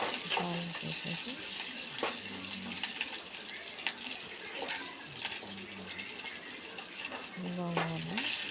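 Gongura leaves sizzling in hot oil tempering with dried red chillies, a steady close frying hiss with occasional stirring scrapes, fairly quiet throughout.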